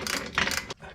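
A torque wrench ratchets on a rear suspension bolt of a Porsche 911, giving a brief, close, dense burst of mechanical clicking that cuts off abruptly near the end.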